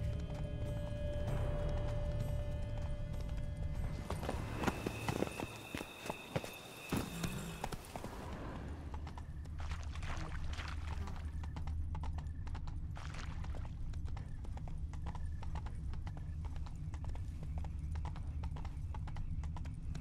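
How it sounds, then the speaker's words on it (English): Rapid horse hooves clip-clopping close by in the video game The Witcher 3: Blood and Wine, loud and rhythmic, with a brief whinny and commotion early on before the steady trotting continues. "Horses must have gotten spooked."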